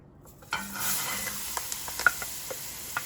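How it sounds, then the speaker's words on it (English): Chopped vegetables dropped into a hot roux for Cajun chicken, sausage and shrimp gumbo, starting a steady close sizzle with stirring scrapes and small pops, no talking. "we're gonna take these vegetables and we're gonna put those in here."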